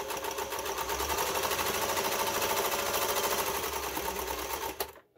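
A Singer 431G sewing machine stitches at a fast, even rhythm: a rapid mechanical clatter runs steadily and close by for several seconds, then stops abruptly.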